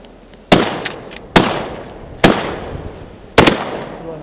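Four sharp outdoor shotgun blasts ring out at uneven intervals, each a loud, abrupt crack with a short decaying tail, with no talking between them.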